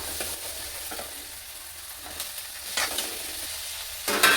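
Tomatoes frying and being stirred in a pan with ginger and garlic, a steady sizzle under scraping spatula strokes, with a louder burst of frying near the end and no talking.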